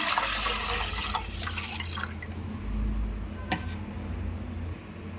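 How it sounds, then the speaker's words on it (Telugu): Water splashes and trickles steadily into a vessel at close range, with a brief clink partway through before the flow eases off. "ఒక గిన్నె పెట్టుకొని తగినన్ని నీళ్ళు పోసుకోవాలి"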